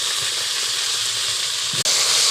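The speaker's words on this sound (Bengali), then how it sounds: "এবারটা পেঁয়াজ দিয়ে দেবো, সাথে একটু পেঁয়াজের সাথে আলু ভেজে নেবো, তাহলে ভালো হবে।" Onions and potatoes fry in a pan with a dense, loud, close sizzle that holds steady, then cuts out briefly and returns even brighter at the end, with no voices.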